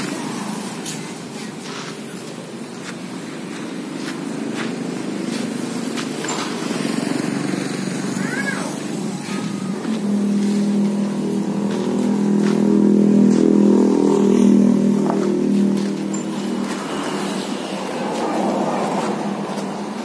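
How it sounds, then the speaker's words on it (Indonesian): Small engine of a mini Jeep towing a becak and a mini car, a steady rumbling drone that swells louder toward the middle as it pulls, with faint voices in the background. "terus untuk mobil bagi mini ini kita buat di tengah dan juga baru ditarik dengan mobil Jeep Mini ini cuy"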